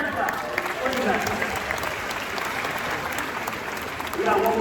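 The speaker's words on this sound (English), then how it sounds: "Give her a hand clap" Applause from an audience at a youth motivational tour event, a steady wash of hand claps close by with voices mixed in.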